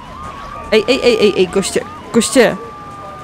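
A police siren in the video game GTA III wails steadily in the background while someone talks excitedly over it.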